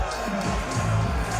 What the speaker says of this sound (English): This crowd is raining down on Caleb Connley.